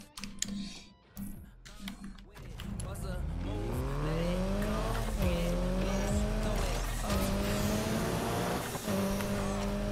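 A Mitsubishi Lancer Evo X in Need for Speed growls through rising nitro-boosted acceleration and upshifts, with tyre squeal over a loud, continuous engine tone; a voice talks faintly at the start.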